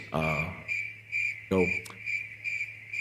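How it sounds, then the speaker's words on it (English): Crickets chirping steadily in pulsed trills, a high repeating note running throughout, moderately loud, with a voice speaking over it in two short bursts. "These damn crickets."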